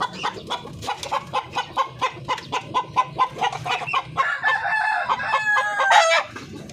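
Darag native breeder chickens, free-range Filipino fowl, crowing and clucking during feeding, with a rhythmic series of clucks followed by a drawn-out rooster crow near the end.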